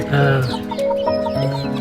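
Large tiger-breed chickens cluck close by in a short burst of throaty, overlapping clucks and murmurs.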